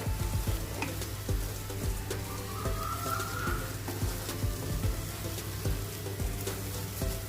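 Egg being stirred into a spice masala in a pan for egg tadka dal, with a steady sizzle of frying and repeated scraping strokes of the spoon, close and alone without talk.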